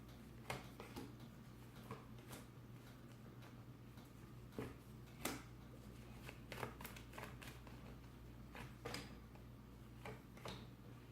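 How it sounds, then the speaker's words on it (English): Soft shuffling and light slaps of tarot cards being laid out for a spread, with scattered sharp taps over quiet room hum. "I don't turn them over until I get all the cards out for the spread"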